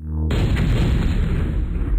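A heavy airstrike explosion in the video game MechQuest bursts in suddenly after a brief tonal lead-in, then rolls on as a loud, sustained rumbling roar.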